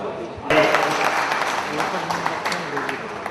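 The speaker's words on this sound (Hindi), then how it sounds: "जोरदार तालियों से स्वागत" An audience at a BJP district political event bursts into loud, sustained clapping to welcome guests, the applause starting abruptly and continuing evenly with voices mixed in.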